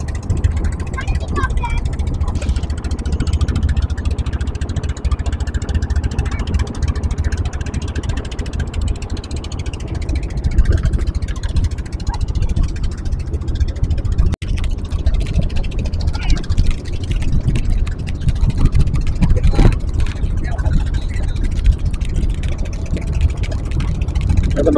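A boat engine drones steadily on a river in the Chalan Beel wetland near Singra, Natore, a loud continuous rumble with wind and water noise throughout the ride.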